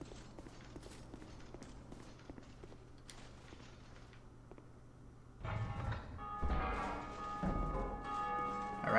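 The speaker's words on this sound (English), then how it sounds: "I rang the bell." A bell rings in Dark Souls 2, heard after a stretch of quiet footsteps as a louder resonant clang with ringing tones that keeps sounding to the end.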